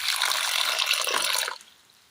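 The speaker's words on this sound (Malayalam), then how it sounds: "അല്പം വെള്ളം ഒഴിക്കാം." Water pours from a vessel into a pan of sprouted green gram for a Kerala dish, a close splashing gush that runs steadily for about a second and a half and then stops abruptly.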